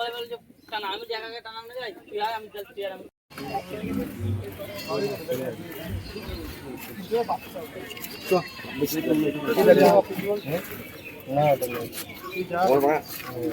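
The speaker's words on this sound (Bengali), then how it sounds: "পায়রাটা একদম গরম আছে ডাক করছে" A pigeon coos in low, throaty, repeated calls at an outdoor market, partly under people talking nearby, after a short burst of chirping at the start.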